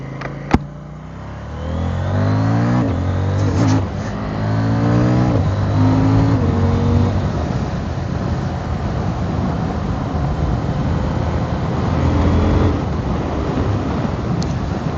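A 2023 CFMoto 800NK motorcycle on the move, engine droning steadily with a rise in revs and heavy wind rush throughout, loud and close, no speech.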